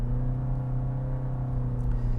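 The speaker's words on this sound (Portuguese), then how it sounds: "numa subida ou numa situação de serra, você vai estar sempre lidando com ronco, ó" A Toyota Yaris Hatch XS engine drones steadily under load on a climb, a constant low hum with a few tonal bands, heard from inside the cabin with no talk.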